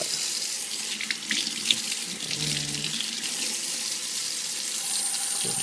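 Water from a tap runs steadily into a sink while a hookah part is rinsed clean, a continuous splashing stream that stays close and fairly loud throughout, with no talking.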